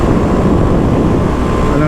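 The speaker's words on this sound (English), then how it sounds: "this wind is making riding out here very difficult" Strong wind buffeting a rider on a 2023 Kawasaki KLX300SM motorcycle, a loud continuous low roar of wind rush with engine drone beneath, steady throughout.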